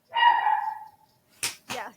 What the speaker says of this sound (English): I don't know what she's barking at out there because nobody's here.